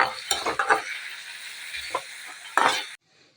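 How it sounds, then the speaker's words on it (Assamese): Baby potatoes fry in a pan with a scattering of raw onion and are stirred with a utensil, giving close scraping and clinking over a steady sizzle that cuts off near the end. "আকৌ লৰাই দিছোঁ।"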